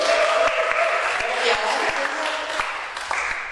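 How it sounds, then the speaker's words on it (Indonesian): Audience in a church setting applauds for a church guitarist; a steady wash of moderate clapping fills the short clip, with a voice talking over it. "Kok nggak ngaku sih tepuk tangan buat David?"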